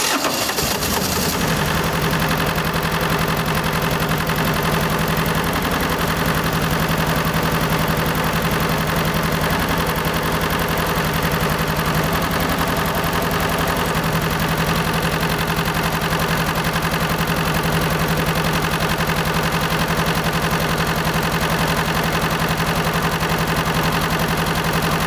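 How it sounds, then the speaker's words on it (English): A rebuilt heating water pump, freshly primed, runs in a château's heating system with a steady, loud mechanical hum and a constant low drone that carries on unbroken from start to finish, with no voices. "I have primed the pump by filling it from the top."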